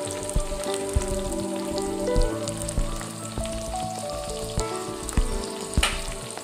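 Chopped capsicum hitting onions in a hot pan gives a loud, continuous sizzle with scattered pops and a few stirring knocks, no voices.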